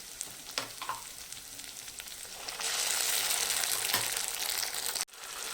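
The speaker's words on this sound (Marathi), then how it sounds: "हे बघा, रेड सॉस घालून चांगलं परतून घ्यायचं आहे" Red sauce with onion and boiled peas sizzles as it is sautéed in a pan for suji pasta, with scraping stirs. The frying grows louder and fuller partway through, then is briefly cut before resuming.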